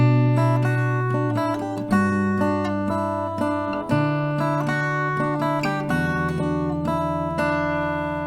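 Acoustic guitar strums a chord progression, with a new chord struck roughly every two seconds and each ringing out in clear, sustained tones.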